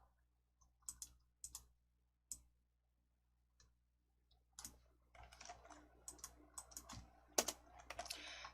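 A computer keyboard is pressed in sparse, crisp individual clicks at first, then a quicker burst of keystrokes builds into a busier clatter near the end. The sounds are close and quiet with a silent room around them.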